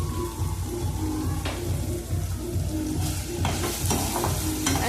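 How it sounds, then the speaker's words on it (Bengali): Eggplant slices frying in hot oil give a close, continuous sizzle and crackle, with a few sharp bursts of spattering and scraping as they are moved in the pan, no voices. "আজকে শুধু এইটা বেগুন ভাজা দেখাবো"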